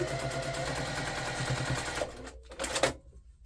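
A sewing machine stitches down the top edge of a quilt block in a rapid, steady mechanical run that stops, then restarts briefly in two short bursts.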